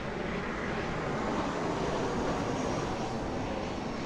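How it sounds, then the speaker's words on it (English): An airplane passes over Queens, New York, a steady broad engine roar heard from the street, constant and moderately loud without distinct peaks, with no voices present. "That one's not from the train,"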